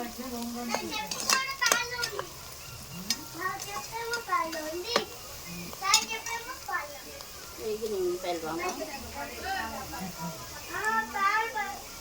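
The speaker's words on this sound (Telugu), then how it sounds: "ఒక హాఫ్ టీ స్పూన్ పసుపు వేసుకొని బాగా కలుపుకోవాలి" Turmeric is stirred into biryani masala frying in a pan, giving a steady sizzle and scraping under continuous talk, with children's voices in the background.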